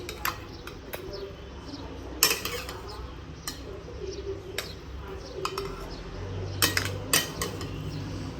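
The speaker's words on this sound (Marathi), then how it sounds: "आता दोघींना वाढून घेते मी." Utensils clink and scrape against plates as a hot breakfast of sushila is served for two in a home kitchen, with sharp intermittent clatters over a quiet background and faint bird chirps.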